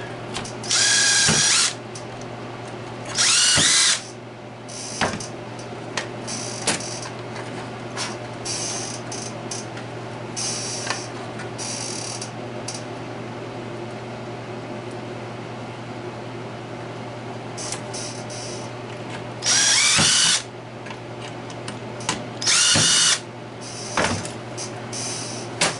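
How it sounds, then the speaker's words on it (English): A power drill cuts 9/64-inch holes for a primer alarm round counter on a reloading press, in several short, loud, close bursts spaced apart over a steady low hum, with no talk. "So you're going to go and drill the holes."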